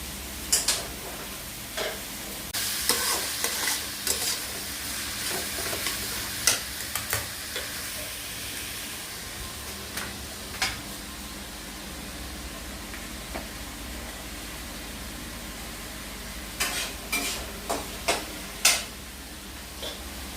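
Onion and tomato frying together in a pan at dinner time, a steady soft sizzle with intermittent scraping and stirring clicks, close by and without voices.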